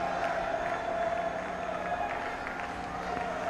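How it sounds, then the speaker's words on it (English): A cricket stadium crowd applauds and cheers Virat Kohli's century in a 2016 Test between India and the West Indies, a broad, distant, continuous roar with a steady hum beneath a commentator's voice. "Anil Kumble joining in the applause."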